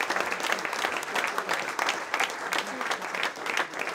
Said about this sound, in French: je tiens à ce que vous les applaudissiez très fort